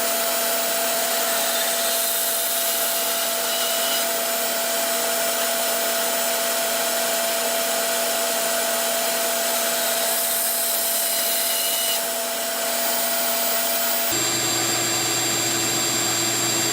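A table saw runs steadily while cutting a wooden painter's pyramid, a loud, sustained whine with slight shifts in pitch under load before the tone drops near the end.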